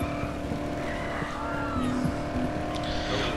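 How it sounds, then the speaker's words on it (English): Trucks driving and drifting in the video game Dead Island, with a steady engine drone and brief tire-squeal chirps, fairly quiet and continuous, without talking. "these trucks seem to make a lot of drifting noises"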